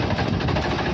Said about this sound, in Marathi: हे ट्रॅक्टर दोन्ही ट्रॅक्टर सुरू झाले